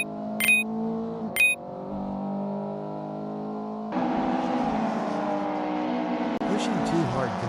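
Simulated race cars in the Simspeed MK1 Golf Cup sim racing game drone with steady, shifting engine tones, rising to a denser roar partway through, beneath continuous commentary.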